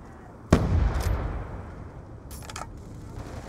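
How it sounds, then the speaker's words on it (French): A sticky grenade bursts in the video game Black Ops 2, a single sharp blast followed by a rumbling decay, with faint game noises afterward and no talk. "Grenade collante. Je lance une grenade."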